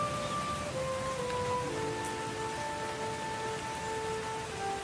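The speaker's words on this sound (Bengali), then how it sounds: "বৃষ্টি হচ্ছে," Rain falls steadily in a Bengali cartoon scene, an even hiss under sustained musical tones, with no one speaking.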